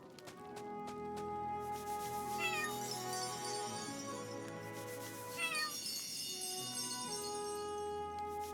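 A cartoonish cat in the video game Chained Echoes meows twice, a few seconds apart, over steady, tonal in-game background music.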